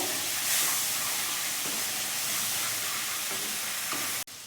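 Ground cashew and melon seed paste sizzles and fries in a pan with spices, a steady close hiss with faint stirring scrapes, ending abruptly.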